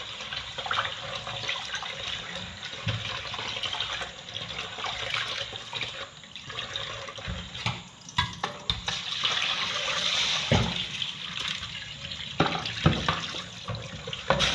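Rice is washed under a running kitchen tap to rinse off the starch before cooking jollof rice. Steady close water flow runs throughout, with sloshing and splashing bursts as the grains are stirred. No voices are heard.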